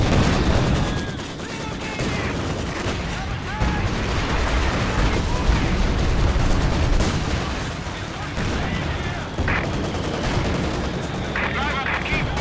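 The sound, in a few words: gunfire from Panzer tank and squads, video game Company of Heroes 2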